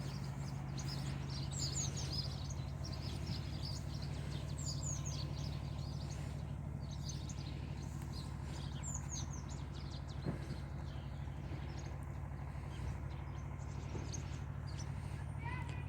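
Birds chirp and tweet in short bursts over a steady outdoor background hum, with occasional faint knocks.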